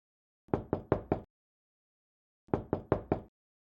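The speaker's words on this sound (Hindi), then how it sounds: "आपके घर का दरवाजा कोई पीट रहा है" Someone bangs on the door of a house: two close bursts of four sharp, hollow knocks each, separated by a pause of about a second.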